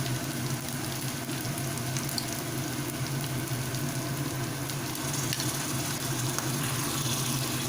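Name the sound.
sour yogurt added to hot pan, sizzling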